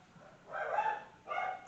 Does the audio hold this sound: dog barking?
yes